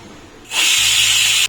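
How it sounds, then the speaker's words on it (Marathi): A pressure cooker whistles on fairly high gas while Malvani cucumber cake (kakdiche dhondas) cooks inside: after a quiet start, a sudden loud, steady steam hiss blasts for about a second, then cuts off. "आता एका झाकण लावून कुकरला शिट्टी द्यायची"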